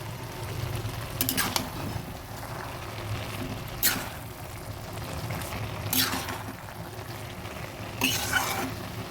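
Bay leaf and green chillies sizzling in a pan with hilsa fish head and ash gourd: a steady low frying hiss, with a few sharp scraping stirs of a spatula at intervals, close and moderate.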